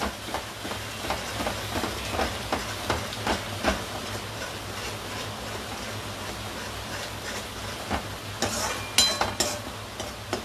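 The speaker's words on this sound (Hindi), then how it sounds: "एक स्मेल ना आए ओनियन का, इसलिए इसे अच्छे से पका लेना है हमें पहले 5 to 10 मिनट्स" Onions cook in a pan over a high gas flame for misal pav, giving a continuous close sizzle and frying hiss with occasional scraping stirs.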